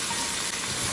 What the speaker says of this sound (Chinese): 炒香之后再把蒜苔加进来，开大火快速的翻炒